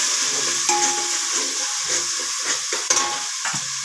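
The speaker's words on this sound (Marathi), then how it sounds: "अद्रक लसूण खोबऱ्याची पेस्ट केलेले का आता खेंगट टाकते बघा आता" Khengat mixture of peanut powder with ginger, garlic and coconut paste hits a hot pan and sizzles with a steady loud hiss. Stirring scrapes and clacks come through close up.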